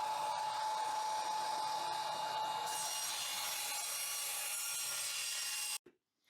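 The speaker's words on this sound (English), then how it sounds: "I'm going to cut it right down the middle" A 2x10 wooden board is sawn lengthwise down the middle with a power saw, a loud continuous whine running for several seconds close by, then stopping abruptly.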